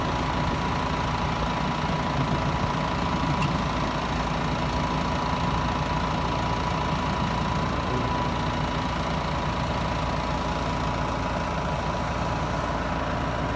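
A Massey Ferguson 6715S farm tractor on a 21 plate idles steadily outdoors, a constant, fairly loud diesel chug with no one talking over it.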